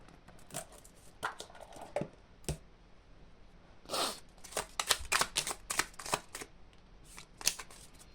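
A small colour oracle card deck being shuffled during a reading, scattered soft riffles and flicks of cards close by, irregular and fairly quiet.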